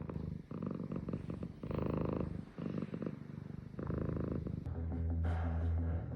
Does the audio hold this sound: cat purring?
yes